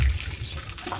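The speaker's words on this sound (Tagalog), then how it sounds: "umaagos po yung tubig sa kawayan" Water trickles steadily through bamboo in a native-style tropical DIY bathroom, a soft continuous flow with low rumbling at the start, heard close and alone.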